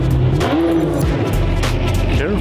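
A Ferrari engine roars and revs up close while tires squeal and skid in tight donuts, with a voice briefly audible beneath the noise.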